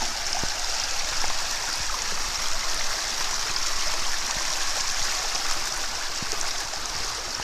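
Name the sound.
river stream flowing near a bridge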